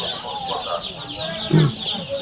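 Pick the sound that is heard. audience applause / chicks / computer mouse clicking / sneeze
chicks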